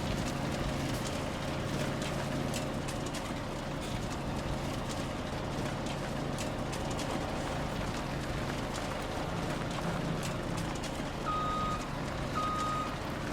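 A truck in the farming video game Farming Simulator 17 gives out steady reversing beeps over a constant engine rumble and background noise. The beeps are clearest near the end and have no talk over them.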